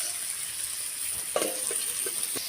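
Potatoes, green chillies and tomato sizzling in a pan for methi aloo fry, a steady hiss with a few sharper spatula scrapes and stirs toward the end.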